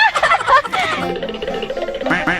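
Ducks being caught in a pen quack and squawk loudly and continuously at close range, their calls overlapping in an agitated burst with no talk.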